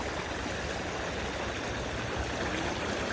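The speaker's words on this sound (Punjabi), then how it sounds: "ਪਾਣੀ ਦੇਖੋ ਇਹਦਾ ਭੱਜਦਾ ਕਿੰਨੀ ਤੇਜ਼ ਹੈ" Fast-flowing flood water of the Satluj river rushes in a steady, dense broadband roar, fairly close and continuous with no voices.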